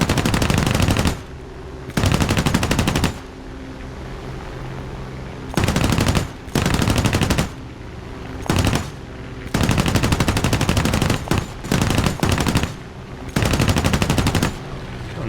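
Bursts of F2A-3 aircraft machine-gun fire in War Thunder during a ground realistic close air support match, loud and sharp, about eight bursts of differing length with brief gaps and a low engine drone between them.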